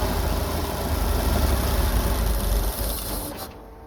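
A Jeep CJ-7 engine with a Holley Pro-Jection throttle-body injection idles roughly, a loud close continuous rumble that falters and drops away near the end.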